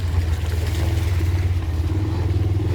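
A motorcycle carrying its rider along a steep, dangerous mountain road on the Baralacha pass route, engine droning loudly and evenly up close with a light clatter, no speech over it.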